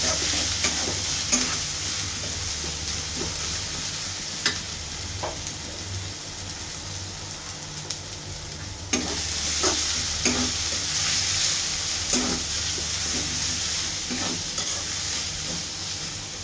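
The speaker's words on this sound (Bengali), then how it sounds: "আদা রসুনটা 2-3 মিনিট ভাজা নিব ভালো করে।" Ginger-garlic paste frying in a pan for a khichuri dish, with a steady close sizzle and hiss throughout, broken by intermittent scraping stirs of a spatula; no talking.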